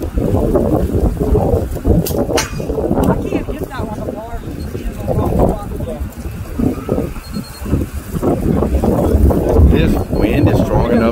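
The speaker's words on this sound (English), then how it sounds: "This wind is strong enough to where it's pushing us." Strong, gusting wind buffets the microphone with loud low rumble, rising and falling throughout, while people talk nearby.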